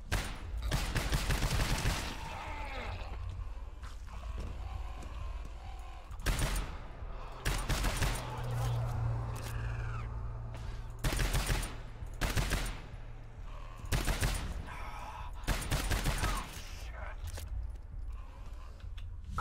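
Gunfire from the co-op shooter GTFO comes in repeated loud bursts spread through the scene, broken by quieter stretches of game ambience and a low drone.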